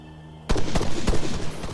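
Gunfire in a night firefight in the video game Arma 3: after a quiet hum, a burst of loud sharp shots cracks out in quick irregular succession, close and dense.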